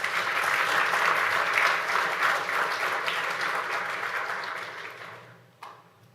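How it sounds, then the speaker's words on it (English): Warm audience applause welcoming a keynote speaker at a geospatial conference, steady clapping from a moderate crowd that gradually thins and fades out, ending with a single sharp knock. "let's give him a warm round of applause"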